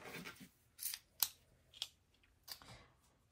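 Scissors snip through Happy Planner sticker sheets in several quiet, close, crisp cuts at irregular intervals, with near silence between them.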